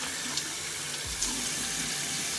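Warm tap water runs steadily into a bathroom sink, a continuous close splashing hiss with gentle gurgles as the stream hits the basin.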